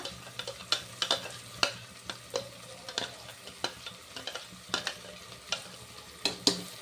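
Spices sizzle and crackle in a hot oil tempering for vegetable pulao while a spoon scrapes and stirs the pan in irregular clinks.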